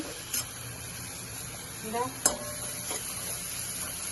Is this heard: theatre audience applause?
no